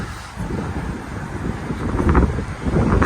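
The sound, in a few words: wind blowing near railroad crossing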